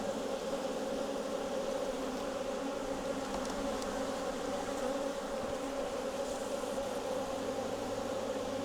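A dense, steady buzz of honeybees swarming around an open hive, the droning hum of many insects continuous and close throughout with no voices.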